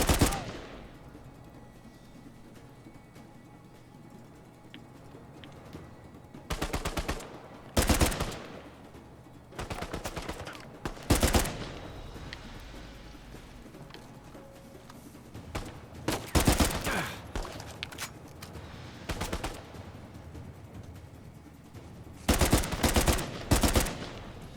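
Rapid automatic weapon fire in a first-person shooter game rings out in several separate loud bursts, with a quiet game background between them.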